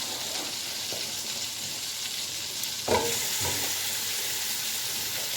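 Marinated chicken hits a hot karahi for tikka karahi, giving a steady, loud sizzle and frying hiss throughout, with a brief stir or clatter midway and no talking.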